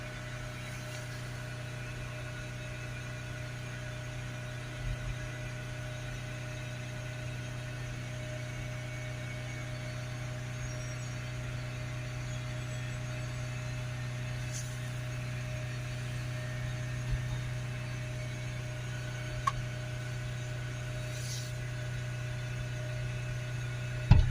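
Vauxhall Vivaro / Renault Trafic 2.0 diesel van engine held steadily at about 3,500 RPM with a clogged particle filter, a constant droning hum and whine at moderate level throughout, with no talking.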